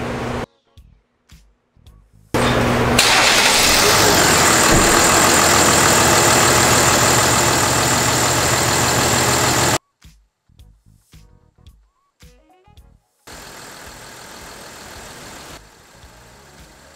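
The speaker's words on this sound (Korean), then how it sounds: "시동 걸고 15분 새 초과하도록 하겠습니다." A high-mileage Kia Mohave engine runs loud and close in a steady idle for about seven seconds, then cuts off. Scattered clicks and knocks follow, then a quieter, steady engine hum resumes.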